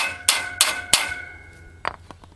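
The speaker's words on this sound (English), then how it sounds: "I'm going to slide the first bolt in that hole, and I'm going to tap it in" A hammer taps a bolt into a metal sickle bar mower knife: three sharp ringing metallic strikes at an even pace, then a softer double tap as the ringing fades.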